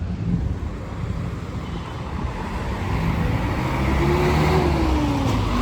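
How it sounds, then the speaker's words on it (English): Busy Cairo street traffic with cars swerving through, a steady roar of engines and road noise buffeted by wind on the microphone, growing louder toward the end, with one passing engine tone rising and falling. "these motherfuckers just swerve in and out of each other, honking their horns every 2 seconds"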